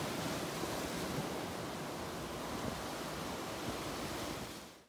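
Waves wash steadily onto a town beach on the Aegean Sea in Crete, a dense, continuous surf roar with wind, close and fairly even throughout before fading out at the end; no voices.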